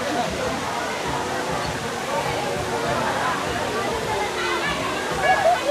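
Strong, cold spring water gushes steadily from a pipe at a crowded swimming spot, a loud continuous rushing with people's chatter mixed in.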